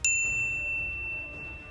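Bright notification bell ding: one sharp metallic strike at the start, its clear high tone ringing out and slowly fading over low background music.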